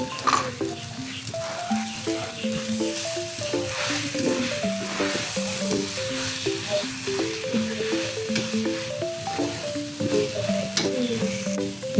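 An egg fries in a pan with a loud, steady sizzle and crackle that runs without a break, along with occasional stirring or scraping sounds and no talk.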